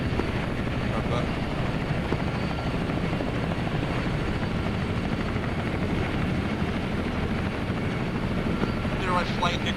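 Military helicopters idle on a tarmac during a training exercise, their rotors making a dense continuous whir, while radio chatter and voices talk over the steady roar.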